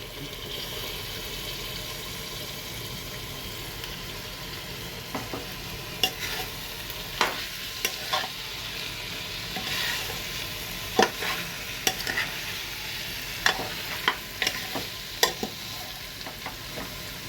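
Cabbage is stir-fried in oil in a pan for a vegetarian Bengali curry, a soft continuous sizzle under repeated sharp scrapes and clacks of a spatula that grow more frequent in the second half, close by with no speech.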